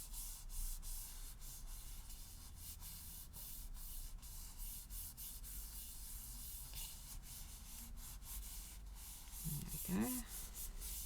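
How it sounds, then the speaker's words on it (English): Hand rubbing a mask onto a card during card making, a soft continuous scratchy friction with brief sweeping strokes, faint and close. "Hold it down, give it a rub around."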